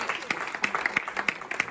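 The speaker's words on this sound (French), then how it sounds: "vous pouvez l'applaudir." Audience at a poetry and music recital claps, scattered, irregular hand claps from a modest crowd, fairly close, over a short stretch with faint murmuring underneath.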